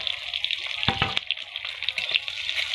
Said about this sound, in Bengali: এখন রান্না করছি, ডিমটাকে ভেজে নিচ্ছি।